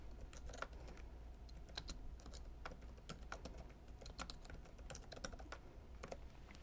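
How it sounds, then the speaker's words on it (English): Steady typing on a computer keyboard, quick irregular key clicks going on without a break at a low, close level. "or we can just type them in"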